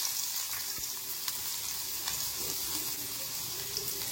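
Chopped onion frying in two spoons of coconut oil in a small pan, a steady soft sizzle and crackle that runs throughout, with a few faint clinks of utensils.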